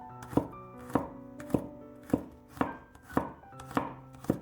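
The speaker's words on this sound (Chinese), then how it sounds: "准备一把去皮的大蒜，将大蒜先切成薄片" A knife slices peeled garlic cloves thinly on a cutting board, about eight crisp, evenly spaced thuds at a slow, steady rhythm, close and clear with faint background music.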